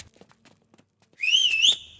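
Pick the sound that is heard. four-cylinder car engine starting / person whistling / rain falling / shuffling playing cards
person whistling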